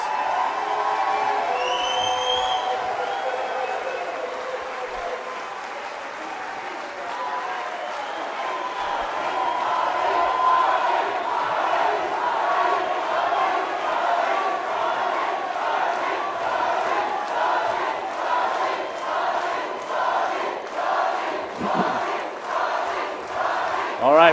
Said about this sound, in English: And now to our live audience, you can applaud the candidates.